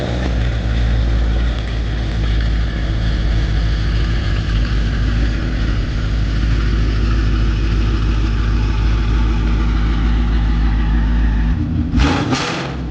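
A 2017 Ford Mustang GT in the middle of a rebuild runs and drives, its engine giving a loud, steady, close drone throughout, with a brief louder surge near the end and no talk.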